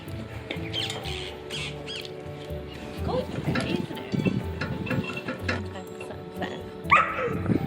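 Winnie, a dog left alone during a house renovation, giving short yips and whimpering barks amid nearby household noise, with people talking over parts of it.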